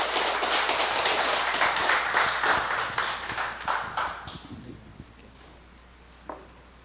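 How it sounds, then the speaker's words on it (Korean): At a Korean church's Sunday worship service, the congregation claps to welcome a pastor, a dense burst of applause that thins out after about four seconds and trails into near silence, broken by one last isolated clap. "우리 박수로 맞이해 주시기 바랍니다"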